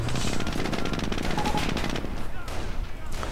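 Volksgrenadiers open fire in a WWII strategy video game, with loud, dense rattling bursts of rapid gunfire that continue throughout.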